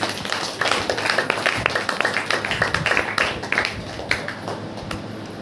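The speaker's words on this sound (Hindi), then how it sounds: "ताली बजा करके।" A church congregation at a Hindi Christian prayer meeting claps hands together in a quick, rhythmic burst, many palms striking roughly in time before thinning out toward the end, with a few voices faintly mixed in.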